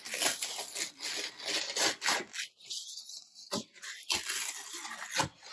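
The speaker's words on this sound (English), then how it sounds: "I slit the front of the Cheerios box, and I'm going to take off this side panel" The side panel of a cardboard Cheerios cereal box is cut and torn away with rough, scraping, ripping strokes. Close and fairly loud, in bursts with brief pauses and no talking.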